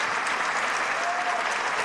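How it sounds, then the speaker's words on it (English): Dense, steady applause fills a large hall at a governor's State of the State address, a continuous wash of many hands clapping at even volume. "You have to give them a round of applause"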